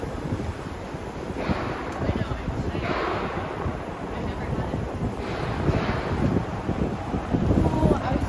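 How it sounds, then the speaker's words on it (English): Steady low rumbling wind buffets the microphone outdoors in Manhattan, New York City, throughout, with gusty swells and a wash of broadband noise, no voices. "it's a bit windy right now. Let me know if the wind is too much."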